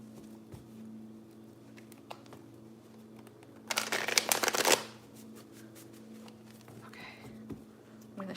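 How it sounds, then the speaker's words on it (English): Tarot cards are shuffled in one quick, crisp riffling burst about a second long, close and fairly loud, set against a quiet room hum with sparse small taps. "I'm going to shuffle the cards for you, Catherine."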